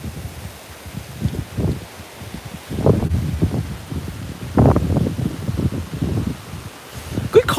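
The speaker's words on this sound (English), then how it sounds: "call the National Weather Service to just tell them about some very, very strong winds" Strong, gusty wind from Hurricane Isaias buffets the microphone in heavy, rumbling surges, with rustling in between. The gusts rise and fall irregularly throughout.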